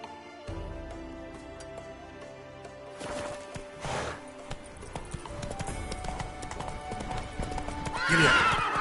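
Roach, the horse in The Witcher 3's Blood and Wine expansion, trots with clear clip-clopping hooves over soft music, then lets out a loud whinny right at the close.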